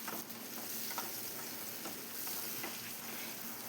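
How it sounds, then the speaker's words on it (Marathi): A large finely chopped onion frying in oil with a bay leaf and cumin seeds, giving a dense, steady sizzle with soft stirring scrapes, fairly faint and continuous, without voices. "कांदा छान ला लालसर होईपर्यंत भाजून घ्यायचा आहे"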